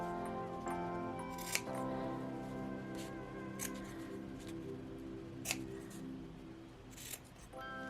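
Small scissors snip the corners of fabric on a miniature nursery footstool. A few sharp, quiet cuts come close and alone, with a steady faint hum and some tonal music in the background.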